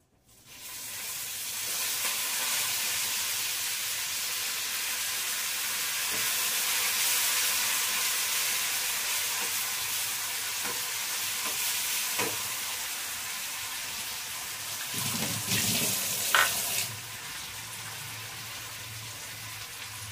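Washed mint leaves hitting hot oil in a pan for mint and gongura chutney, a loud, continuous sizzle that persists for the whole stretch, with a few stirring knocks and a brief bump in the crackle toward the end.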